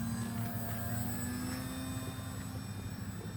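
A Horizon Hobby Timber 1.5 RC floatplane flying over water at low throttle, its electric motor a faint, steady whine with tonal harmonics holding evenly throughout.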